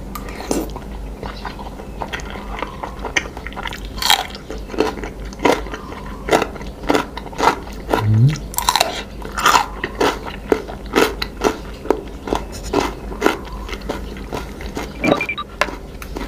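Raw pickled mantis shrimp with roe being eaten up close: a steady run of wet, crunchy bites and chewing, repeated many times with short pauses between mouthfuls.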